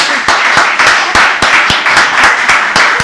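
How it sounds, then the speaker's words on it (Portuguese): Loud, close round of applause for a guest on a podcast with a live audience, sharp claps falling into a rhythmic, evenly spaced beat throughout. "pedir uma salva de palmas para a nossa convidada Lu Amâncio."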